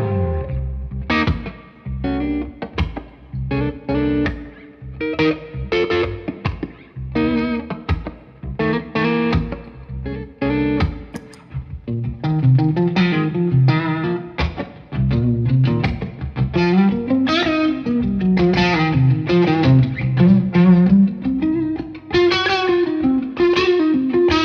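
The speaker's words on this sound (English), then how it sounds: "So I end up with this colossal guitar sound that I could use on stage if I wanted to." Heavily distorted high-gain electric guitar through a Universal Audio OX plays chords and a melodic line, drenched in reverb and echo, loud and continuous with no voice.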